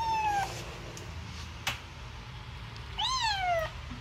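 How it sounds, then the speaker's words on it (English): Domestic cat meowing indoors at home, two clear rising-falling meows near the start and end, fairly close and loud over a low background hum. "We have two cats here."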